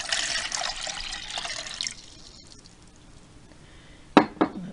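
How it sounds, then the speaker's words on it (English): Two cups of room-temperature water pour into a small pot for a lightweight hiking stove, a close splashing stream for about two seconds, then quiet and two sharp drips or clinks. "I have 2 cups of room temperature water going in a pot."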